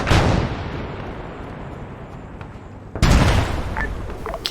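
Heavy artillery fire in the Vietnam war video game Vandal Commander: a loud booming blast that rumbles and decays, followed about three seconds later by a second close, powerful explosion.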